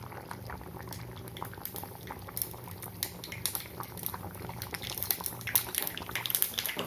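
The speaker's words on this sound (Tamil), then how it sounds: "குழம்பு கொதிச்சுடுதா பார்க்கலாம் குழம்பு கொச்சது போதும்" Bitter gourd kara kuzhambu, a tamarind-based Tamil curry, bubbles and boils steadily in a pan, a continuous close simmering with small popping bursts and occasional faint clinks.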